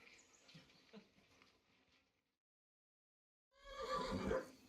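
A horse in the Kingdom Come Deliverance II video game gives a short, loud whinny near the end. Muffled low talk comes before it, followed by a brief silence.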